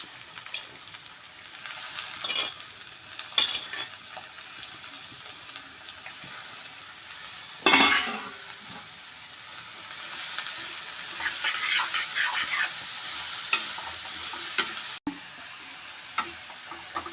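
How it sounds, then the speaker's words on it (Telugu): Onions frying and being stirred in a pan for goat tripe curry, a steady close sizzle running throughout with occasional scraping stirs and clinks, no voices. "ఉల్లిగడ్డలు వేసి ఇట్లా కలుపుకోవాలి."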